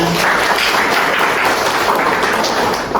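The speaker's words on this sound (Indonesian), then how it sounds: "Tepuk tangan untuk semuanya." A school audience gives a loud, continuous round of applause, a thick, even roar of many hands clapping together that holds steady for a few seconds before easing slightly at the very end.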